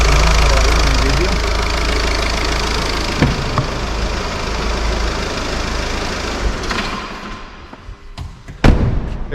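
Volkswagen Golf V GTD with its BMN diesel engine idling at close range, a steady low rumble with knocking undertones before a few thumps and clunks near the end as the engine is shut off.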